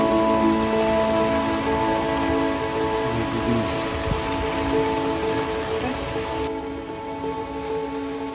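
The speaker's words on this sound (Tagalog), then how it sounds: "Kung kanina malakas lang ang ulan, ngayon sumasabay na ang malakas na hangin." Heavy rain and strong wind batter a camper van in Pangasinan, making a loud, steady, unbroken roar of rain on the roof and body with a low background hum.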